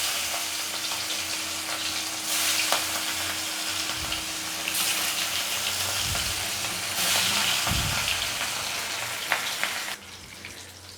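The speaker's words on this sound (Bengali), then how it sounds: "মাছগুলো একটু ভেজে নেব" Pieces of rohu fish fry in hot oil in a pan, making a continuous close sizzle with occasional louder crackling bursts as the fish is moved. The sizzle drops off abruptly near the end.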